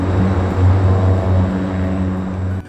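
An airliner on Flight 571 accelerates for takeoff, heard as a loud, steady droning hum of propeller engines throughout, with no talk.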